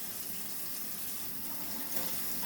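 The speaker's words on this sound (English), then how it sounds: "I always rinse my meat before I cook it." Tap water runs steadily over raw meat as it is rinsed at a kitchen sink, a close, continuous broadband splashing rush with no breaks.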